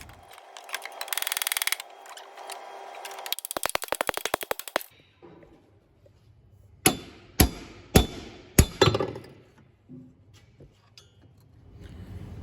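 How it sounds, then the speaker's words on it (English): After a stretch of whirring and rattling machinery, four sharp metallic hammer taps ring out on the crankshaft pulley of a Daihatsu Fourtrak F78 2.8 turbodiesel, evenly spaced about half a second apart. "I'm just going to give that a little tap with a hammer."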